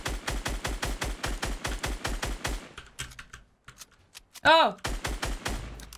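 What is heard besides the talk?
gunfire in the video game Fortnite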